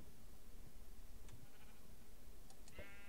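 Sheep in the video game Minecraft give a few short, faint bleats over a quiet background near the end.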